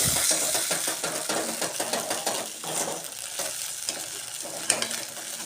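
A spoon scrapes and stirs through a thickening gobi Manchurian sauce as cornflour mixed with water goes in, with rhythmic scraping strokes and a light bubbling sizzle close to the pan.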